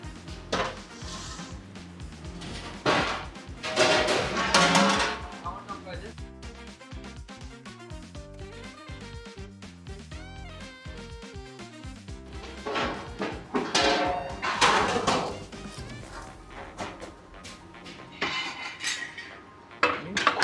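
Chicken and mutton frying with coconut powder in a metal pot are stirred with a utensil, giving repeated close scraping clanks and clinks in uneven bursts with quieter sizzling gaps between, no talk.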